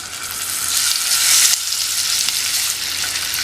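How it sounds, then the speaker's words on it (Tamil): Eggs frying in spiced masala over a low flame, a steady crackling sizzle with a brief louder burst of stirring, close and continuous with no voices. "லோ ஃப்ளேம்லேயே வச்சு இந்த எல்லா முட்டையையும் இந்த மசாலாவில் நல்லா ஃப்ரை பண்ணிக்கணும்"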